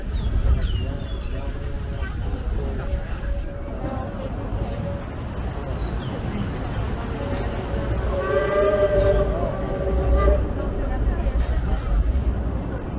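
The Disneyland Railroad train rumbles along the tracks at night, with people chattering in the background and a few high squealing tones.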